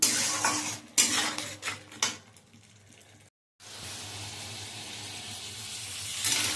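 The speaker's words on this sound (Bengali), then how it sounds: "এবার ভালো করে মশলাটা কষাবো।" Spices with turmeric and salt being sautéed in a pan, a metal utensil clanking and scraping in quick strokes, then a short silence and a steady close hissing sizzle.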